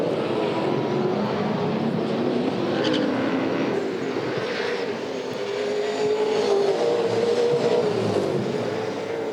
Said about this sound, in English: It's race 2 in round 1 of the Dunlop Series for V8 Supercars.